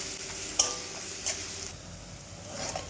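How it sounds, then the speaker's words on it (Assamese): Spices fry in oil for besan curry, a faint, low sizzle with a couple of light clicks from stirring, and no voices. "এইখিনি দি মই ভালকৈ এইখিনি ৰঙচুৱা হোৱাকৈ ভাজি ল'ম।"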